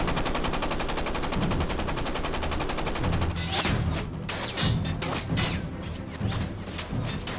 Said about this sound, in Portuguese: Mas após algumas balas, o navio japonês dispara de volta.